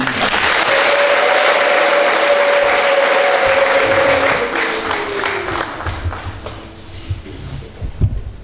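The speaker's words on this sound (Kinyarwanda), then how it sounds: "mumfashe tumuhe amashyi n'impundu" Loud applause from a church congregation celebrating a bishop, dense steady clapping with a sustained high ululation riding over it for several seconds, then easing into scattered claps and crowd murmur.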